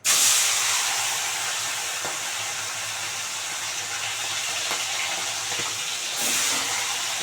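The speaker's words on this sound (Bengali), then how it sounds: "মাছ দু পিস করে ভেজে নেবে যে দিয়ে দিচ্ছি" Two pieces of tilapia fish hit a pan of hot white oil and fry with a loud hiss that bursts at once and then settles into a steady, close sizzle, swelling again briefly near the end.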